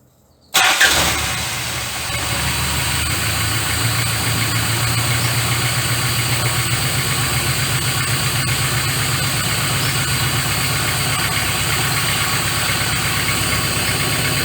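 Carbureted car engine cranks and catches after a short silence, then settles into a steady, loud, even idle that runs alone for over ten seconds.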